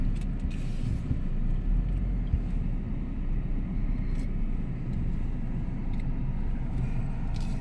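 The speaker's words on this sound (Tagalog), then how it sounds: "Tapos grabe mga sasakyan dami, no?" Heavy, busy road traffic with cars passing continuously, a steady low rumble and roar that stays loud throughout with no talking.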